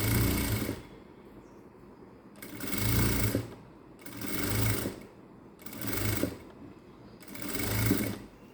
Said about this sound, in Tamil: 1/4 இன்ச்சில் ஒரு தையல் போட்டு கொண்டு வரணும்.